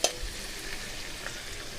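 Potatoes and onion frying in a pan, with a steady faint sizzle and soft stirring scrapes that run quietly throughout after a brief clink at the start.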